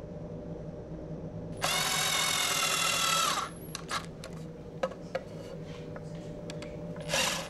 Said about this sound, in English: When you drive the screws, they will pull the shelf into alignment.